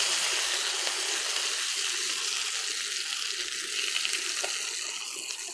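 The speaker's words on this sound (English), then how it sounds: "You are still going to hear the sizzle, you're still going to hear it going" A steak sizzles in a pan with butter in a home kitchen, giving a steady, muted hiss of frying that carries evenly throughout without any talk.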